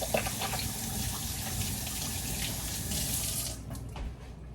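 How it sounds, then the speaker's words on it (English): Tap water pours steadily into a kitchen sink as hands are washed under it, a strong continuous rush with splashing that cuts off near the end. "let me wash my hands"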